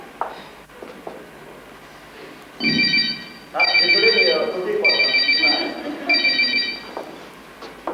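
A mobile phone rings in four evenly spaced electronic bursts, loud and close, while people talk around and over it.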